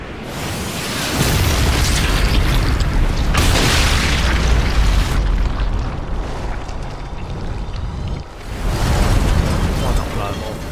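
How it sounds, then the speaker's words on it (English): A tanker exploding in the Sniper Elite 5 video game, heard as several loud, booming blasts with rumbling, roaring tails, including a large burst early on and another after a brief dip, while a person talks over them. "An exploding tanker there."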